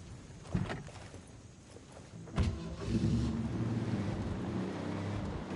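A vehicle arriving in the video game Ghost Recon Wildlands: an engine hum and rumble that builds steadily, with a couple of sharp knocks and thumps before the motor settles into a continuous drone.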